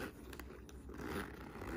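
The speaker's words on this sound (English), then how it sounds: "Let's see if the zipper works." Zipper on a gamer-girl crossbody bag drawn open in one short, close, scratchy pull lasting under two seconds, with no talking over it.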